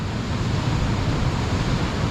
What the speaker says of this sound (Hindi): आप पानी का शोर सुन रहे हैं